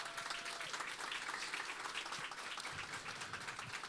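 Audience applause at an education event on fighting racism, steady dense clapping from a crowd throughout, fairly faint and distant-sounding, no speech over it.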